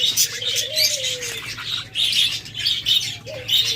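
Budgerigars chirp at a bird farm, a busy chorus of bright twittering calls with a few longer whistled notes, fairly close and continuous with no talk.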